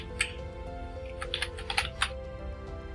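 Fingers tap steadily at a computer keyboard, a few scattered keystrokes followed by a quicker burst, close up and fairly quiet with no speech.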